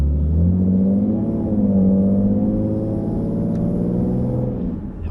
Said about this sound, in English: You just barely tap on the pedal and this thing is just like crazy.